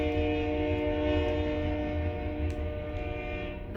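A train blows its horn near a railroad crossing, a sustained, droning multi-tone blast heard from a moderate distance, holding steady for several seconds without any talking.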